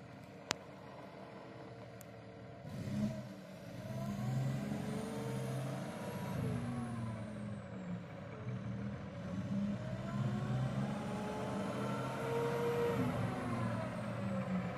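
Mack truck with a Cummins ISX engine and a 10-speed transmission driving, with a steady diesel drone and rising and falling engine pitch through gear shifts. It is heard from inside the cab at moderate level.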